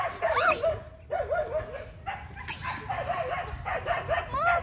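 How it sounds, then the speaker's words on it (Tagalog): A dog barks and yips repeatedly in short bursts, fairly close, with whimpering tones between barks and some background noise. "Ingay ng aso."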